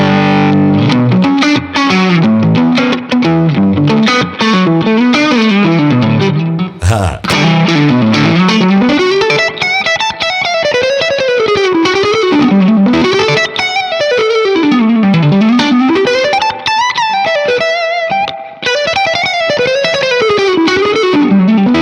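Electric guitar through a Laney Lionheart Loudpedal set for a high-gain modern rock tone, playing loud, continuous distorted riffs and sweeping lead lines with steady sustain throughout.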